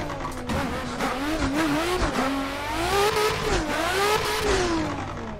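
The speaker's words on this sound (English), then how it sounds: "This car is so loud." Loud, continuous race car engine from a drifting game with Nissan S13 and S15 cars, revving and wavering in pitch as throttle rises and falls, with some tire noise and no talk.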